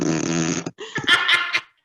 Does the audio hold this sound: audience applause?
no